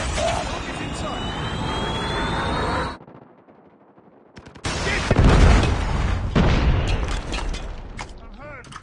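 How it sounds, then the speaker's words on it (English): A Predator missile strike in the video game Call of Duty Mobile sounds as loud gunfire and a heavy explosive boom, with a brief near-silent gap in between and game voices over the action. "Friendly Predator missile inbound."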